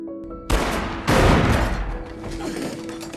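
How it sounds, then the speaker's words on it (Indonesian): Two loud gunshot blasts about half a second apart, each a sharp crack followed by a rumbling, echoing decay, with no talking. "Vince dan Dahmer sama-sama terkena tembakan."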